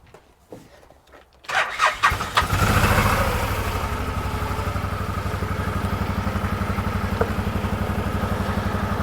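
An Odes 1000 X4 LT side-by-side engine cranks and fires, then settles into a steady, rumbling idle with a fast even pulse that holds close and loud to the end.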